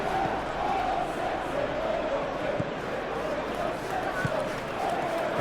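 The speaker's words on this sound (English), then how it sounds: "Now the crowd are demanding that they just finish this off." A constant stadium crowd roar during a Tottenham versus Man City match in the football game PES 21, a dense, steady wash of chanting and murmur that runs throughout beneath a commentator's voice.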